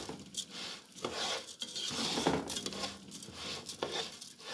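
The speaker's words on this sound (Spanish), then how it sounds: "Y a mover el arroz. Mueve y que mueve hasta que lo doremos bien doradito." Rice toasting in a pot is stirred with a utensil, giving repeated scraping and rustling strokes with faint sizzling, close and fairly quiet.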